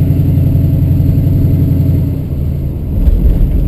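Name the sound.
1968 Ford Mustang V8 engine revving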